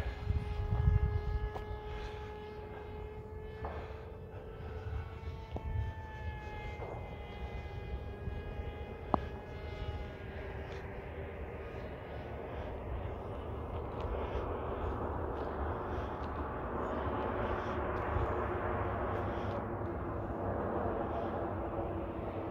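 Small RC pusher propeller plane in flight outdoors, a steady buzzing motor drone with shifting pitch as it passes at a moderate distance, continuous and fairly faint against light outdoor ambience.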